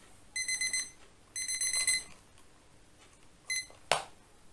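An alarm clock beeps in quick bursts of pulses, loud and close, in three separate runs, with a sharp click or rustle just after the last burst.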